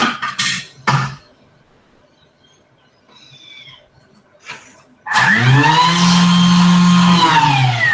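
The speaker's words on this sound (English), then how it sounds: "I'll just use the turbo setting on my Thermomix to get the rest of this out" A Thermomix food processor switches to turbo partway through and spins up into a loud rising whir that holds steady to the end, after a few soft knocks and quiet handling sounds while fish ball mixture is cleared from the blades.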